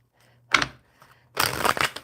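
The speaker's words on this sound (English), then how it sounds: "One more shuffle." Tarot cards being shuffled by hand, two quick riffling bursts separated by a short pause, close and clear with no talking.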